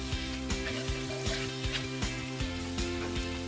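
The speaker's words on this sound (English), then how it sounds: "so let it fry a little bit" Garlic, ginger, curry, thyme and beef seasoning fry in a pan, giving a steady close sizzle under a droning background hum, with regular soft clicks or taps repeating throughout.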